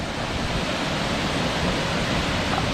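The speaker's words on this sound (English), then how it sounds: "I've never seen a waterfall that big." Roar of the big main falls at El Chiflon in Chiapas, Mexico, seen from a viewpoint: a loud, steady, dense rush of falling water filling the whole clip with no pause.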